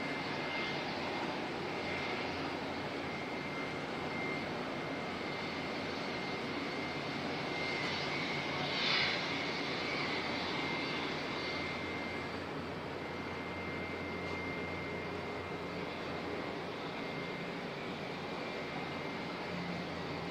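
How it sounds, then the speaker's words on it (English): Steady broadband roar of a jet airliner at Auckland Airport, likely pushing back or taxiing from a gate, holding a constant distant rumble with a faint whine over the full stretch and no talking. "the aircraft on gate 22 looks like that's pushing back"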